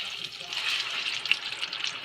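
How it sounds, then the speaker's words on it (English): Soft, steady hiss and light crackle of alcapurrias frying in hot oil, fairly faint and close, with no voices. "Alright, it's been frying on one side for about 2 minutes"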